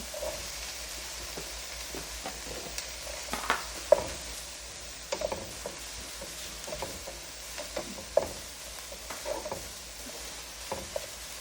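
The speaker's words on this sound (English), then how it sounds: "While the taco meat is browning" Vegan taco meat sizzles steadily as it browns in a pan, with scattered scrapes and clinks of a utensil stirring, no talking.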